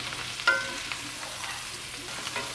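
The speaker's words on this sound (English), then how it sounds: "we're going to keep the drippings in here and cook our spinach and onion" Spinach and onion cooking in bacon drippings in a skillet give a steady close sizzle. A few light stirring scrapes sit on top, the first one the loudest.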